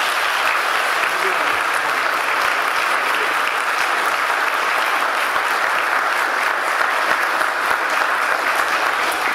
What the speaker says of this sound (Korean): 여러분 다 같이 박수로 맞아주시기 바랍니다.